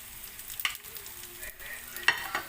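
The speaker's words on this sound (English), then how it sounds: "We have to saute this just like for a few seconds. And now we can put our onion." Chopped garlic and onion sautéing in a pan, with a soft steady sizzle broken by a few scraping stirs of a utensil, heard close up with no speech.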